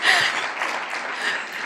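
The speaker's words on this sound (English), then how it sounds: "You can clap, it's okay." Brief burst of audience clapping at a business summit as a speaker is welcomed to the stage, a steady, fairly loud wash of many hands lasting under two seconds.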